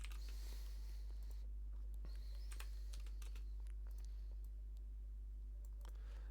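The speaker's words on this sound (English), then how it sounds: "I will just type random text" Random text is typed on a computer keyboard as a quiet, irregular run of close key clicks over a steady low electrical hum.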